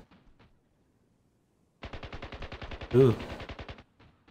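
Rapid automatic gunfire from Ravenfield's D-Day defense battle: a sustained burst of evenly spaced shots lasting about two seconds, with a brief voiced exclamation partway through.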